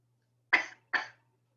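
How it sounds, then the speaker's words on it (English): Two short, sharp coughs in quick succession during a math lecture, close and fairly loud, separated by a brief pause, with a faint low hum underneath. "I'm already coughing."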